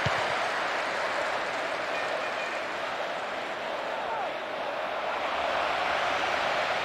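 A large football crowd in a video game roars and applauds in a steady, dense wash of cheering that holds at an even, loud level for the whole stretch.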